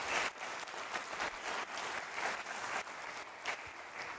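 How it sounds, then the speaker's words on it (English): A livestreamed Air Force Research Laboratory event audience claps in sustained applause, a moderately loud, even patter of many hands continuing throughout. "Let's give another round of applause to Matt."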